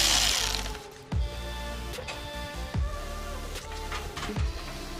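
Bolts on the valve cover of a BMW E28 are backed out with a tool, giving short sharp metallic clicks and scrapes, about four of them, against quiet background noise with no talk.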